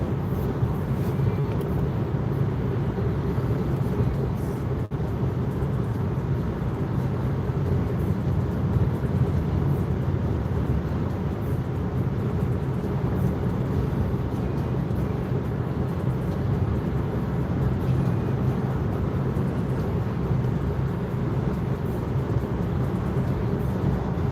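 Steady broadband road and engine rumble heard from inside a car during a long drive, continuous and fairly loud throughout with no talk.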